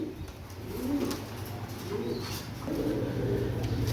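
Pakistani pigeons coo close by in a loft, three soft, rounded coos rising and falling in a slow, even rhythm with no talk.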